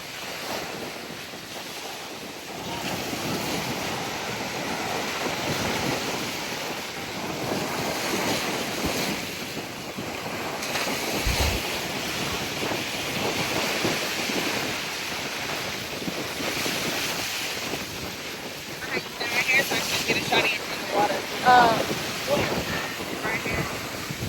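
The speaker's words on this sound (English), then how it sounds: "It's so windy." Strong wind blasts across a beach microphone amid surf and waves, a steady loud roar with gusts swelling near the end; a voice speaks briefly in the background.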